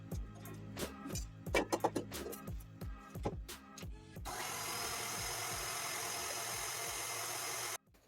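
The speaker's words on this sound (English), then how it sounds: "start beating at medium speed until it gets foamy" Electric hand mixer beating eggs at medium speed for meringue cookies, a steady loud whirring drone after some clattering knocks, running close for several seconds before cutting off abruptly.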